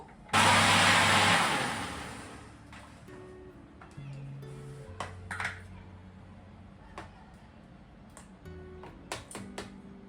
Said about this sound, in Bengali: এই যে এতগুলো আইস কিউব দিলাম, দিয়ে এটাকে আরো একবার ব্লেন্ড করে নেব।